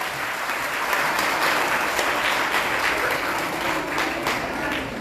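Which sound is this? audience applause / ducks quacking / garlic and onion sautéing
audience applause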